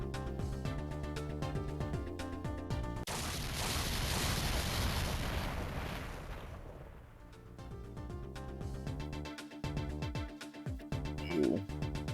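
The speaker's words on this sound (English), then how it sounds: "I think I heard an explosion somewhere" Explosion in the Ghost Trick game: a sustained rumbling blast with a broad roar lasting a few seconds, cutting over looping game music that resumes afterward.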